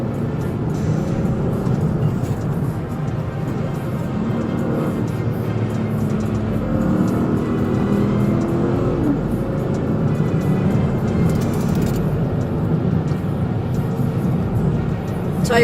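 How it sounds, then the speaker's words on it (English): Car at high speed with its rear passenger tire blown out and running on the rim, a continuous loud rumbling road and engine roar with grinding texture, steady throughout. "Rear passenger tire is on rims."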